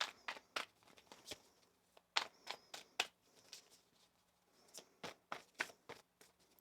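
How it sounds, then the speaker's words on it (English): Tarot cards shuffled in a quiet room, with a series of crisp riffling and slapping bursts coming in clusters and short pauses between them, close and fairly soft, with no talking. "One more shuffle."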